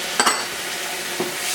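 Wine poured into a hot pan with sausage and garlic gives a steady sizzle, with two short stirring scrapes close by, one near the start and one toward the end.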